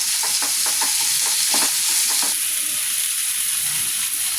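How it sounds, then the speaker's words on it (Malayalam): Garlic, onion and curry leaves sautéing in hot oil for a Kerala-style chicken curry masala, a steady close sizzle with scraping stirs near the start, no talk. "ഇത് നല്ലവണ്ണം വഴറ്റണേ."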